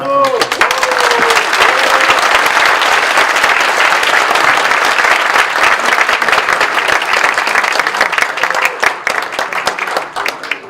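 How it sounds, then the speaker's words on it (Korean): Sustained applause from an assembly of church elders approving a unanimous election at a presbytery meeting, dense and steady for about ten seconds before thinning out, with a few voices briefly audible at the start. "그럼 만장일치로 박수로."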